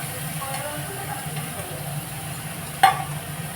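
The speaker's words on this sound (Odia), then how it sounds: "ତାପରେ ଏ ମାଛ ସବୁ ପକାଇଦେଲି, ପିଆଜ ଆଉ ଲଙ୍କା କଞ୍ଚା ଲଙ୍କା କଟା ପକାଇଦେଲି" Fish frying in a pan with chopped onion, green chili and potato gives a steady, close sizzling hiss that runs unbroken, with one brief sharp tick partway through.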